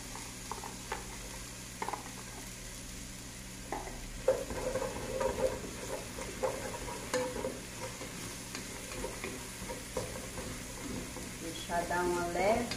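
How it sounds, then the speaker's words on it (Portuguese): A medium chopped onion sautés in a pan over raised heat, giving a steady close sizzle with scraping stirs and a few clinks, while a person talks over the frying. "Vamos colocar também uma cebola média picadinha."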